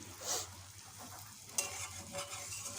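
Tomato frying with masala in a pan, for an egg curry cooked like meat, makes a faint, soft sizzle with stirring scrapes and one quick clatter, no voices heard.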